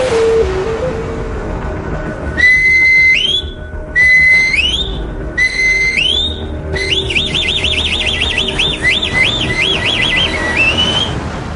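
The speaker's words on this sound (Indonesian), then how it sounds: "suara misterius peluit yang berusia beberapa abad ini disebut Roberto sebagai whistle of death atau peluit kematian" A centuries-old death whistle gives a loud, piercing shriek: three short rising wails, then a long wavering scream over constant background noise.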